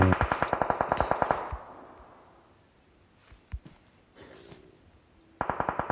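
Rapid automatic gunfire from a team shooter video game, played in a competitive tier 1 match, comes in close, loud rattling bursts. A single shot and quieter distant fire follow in between.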